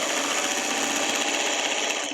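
A sewing machine stitches a quilt block seam, running at a steady, continuous whir close by for the whole stretch without pause.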